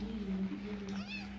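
A weak, recovering kitten meows once, a short rising cry near the mic over a steady low hum, with people speaking around it.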